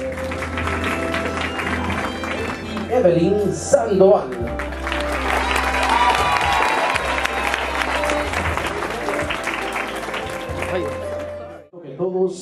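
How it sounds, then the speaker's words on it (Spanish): An audience at a quinceañera applauds as the birthday girl's family is welcomed. The clapping is dense and sustained, there is a brief swell of cheering, and an announcer's voice carries over the crowd. "Un fuerte aplauso"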